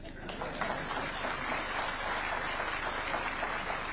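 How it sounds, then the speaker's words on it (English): Steady, dense applause from a crowd at a university graduation ceremony in Kisumu, Kenya, continuous clapping at even volume throughout. "A better round of applause for him."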